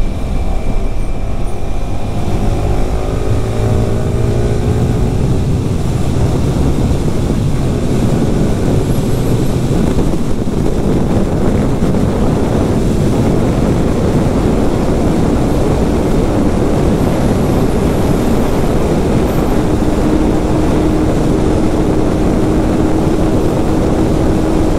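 Yamaha R15 V4 motorcycle at high speed, a loud constant roar of engine and rushing wind buffeting the microphone, with a rising engine whine early on and a steady drone throughout.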